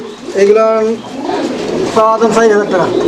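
Pigeons cooing at a pigeon market sale, several birds giving repeated rolling coos in two clear bursts, loud and close, with a crowd murmuring and people talking behind them.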